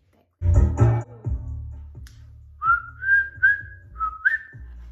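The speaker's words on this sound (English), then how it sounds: "I can whistle" A person whistles a few short, rising notes after a brief spoken sound at the start, the tones clear and close.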